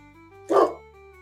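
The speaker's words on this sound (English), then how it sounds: "The dog is barking." A single short bark from a dog cuts through a quiet backyard setting, fairly close and loud against a faint hum.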